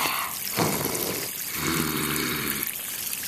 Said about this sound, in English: she trips and falls into the river.